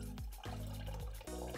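Acid flush solution poured from an opened bottle into a gallon of water for flushing old radiators, a continuous near liquid glug and splash with brief gaps as the pour stops and restarts.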